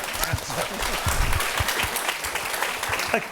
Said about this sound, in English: A round of applause for that very succinct answer.